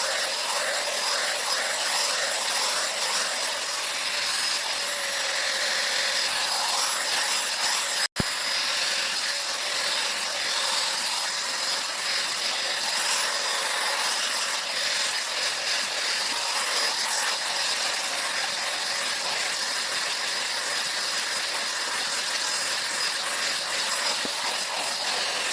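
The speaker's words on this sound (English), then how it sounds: "I'm about to try the Izutech blow dryer" An Izutech blow dryer brush runs steadily with a continuous broadband airy hiss and whine, close and loud, holding constant for the whole stretch apart from one very brief click or dropout partway through; no one talks.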